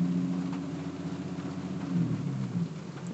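A car engine running close by, a steady low hum that swells slightly as the throttle is revved, then settles back, with no voices.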